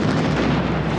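Explosion near the Stade de France during the Paris attacks, heard as a dense, sustained rumbling roar with a heavy low end filling the whole second, no speech over it.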